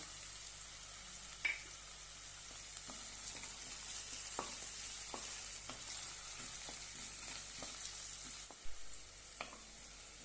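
Crushed garlic cloves frying in a pan for spicy methi pitla, a soft steady sizzle with faint scattered pops and crackles, no talking.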